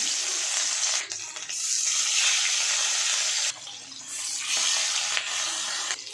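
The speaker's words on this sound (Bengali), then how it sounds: "মাছগুলো তেলে ছেড়ে দিচ্ছি" Rohu fish pieces dropped into hot mustard oil in a kadai over high flame, giving a loud, continuous watery sizzle that dips briefly a few times, with no voices.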